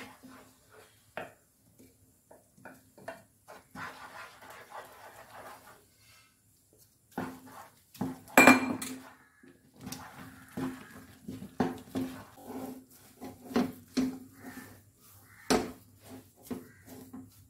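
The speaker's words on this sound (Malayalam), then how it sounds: "ഞാൻ നല്ലതുപോലെ കട്ട പിടിക്കാതെ തന്നെ മിക്സ് ചെയ്തെടുത്തിട്ടുണ്ട്" Rice flour is stirred into boiling water in a pot to make a smooth dough. A spoon scrapes and knocks against the pot in irregular bursts, with quieter gaps between the clusters of stirring, heard close up.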